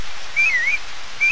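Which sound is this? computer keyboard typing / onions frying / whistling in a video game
whistling in a video game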